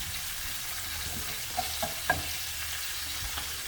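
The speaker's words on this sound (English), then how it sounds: "we want to do this over medium heat. And we want to constantly whisk it" Cheese and milk sauce being whisked over medium heat, a constant low bubbling hiss with a few faint utensil taps near the middle and no speech.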